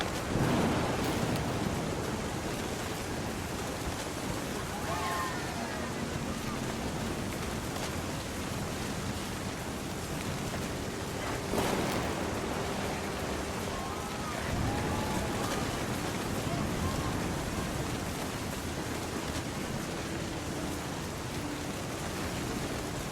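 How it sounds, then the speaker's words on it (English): Distant thunder rumbles through steady rain in the video game What Remains of Edith Finch, a continuous wash of downpour with a couple of low swells and no voices. "The thunder sounded much too close and full of angry power."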